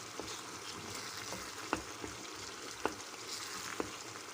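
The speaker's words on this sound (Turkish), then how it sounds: "Hemen karıştıralım. Bir güzel kavuralım arkadaşlar." Onion and spices sizzle and fry in a pan for Turkish lentil köfte, a steady close hiss broken by several sharp stirring clicks and scrapes, with no talking.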